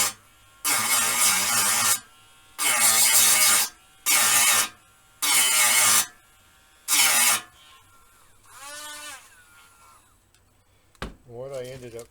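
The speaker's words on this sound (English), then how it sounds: "Dremel." Dremel rotary tool whirring in five loud bursts of a second or so each, with short pauses between, used in restoring an S-38 radio; quieter handling noises and a brief clunk follow.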